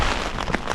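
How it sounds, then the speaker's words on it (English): A dense, steady hiss of rain falls close by at sunset on Utah public land, with scattered patter throughout. "it starts raining on me the second I actually leave to go out and do some hunting"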